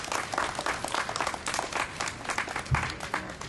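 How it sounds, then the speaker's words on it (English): An audience at a health care reform rally applauds steadily for a few seconds, a dense wash of clapping heard from within the crowd. "Let's give Doak a round of applause"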